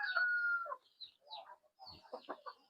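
Chickens cluck and a rooster gives a short crowing call nearby, in a few separate bursts over a quiet background.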